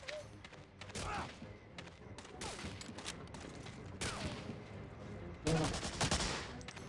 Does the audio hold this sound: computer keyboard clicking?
no